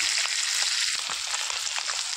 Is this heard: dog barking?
no